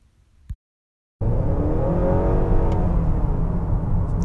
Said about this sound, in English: the engine revs up when the throttle is pressed